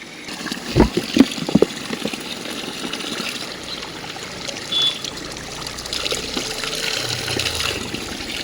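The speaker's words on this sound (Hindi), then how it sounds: "एक बोतल और भर लेता हूँ।" Mountain stream water trickling and pouring into a bottle on a Himalayan trek route in Uttarakhand, a steady outdoor wash of flowing water with a few brief louder splashes near the start.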